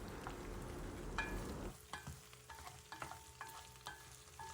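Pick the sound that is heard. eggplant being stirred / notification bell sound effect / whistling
eggplant being stirred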